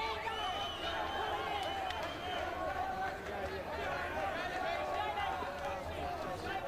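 A boxing crowd at a super middleweight title bout cheers and roars for Wallace, a dense continuous wall of voices filling the arena, with a commentator's voice mixed in.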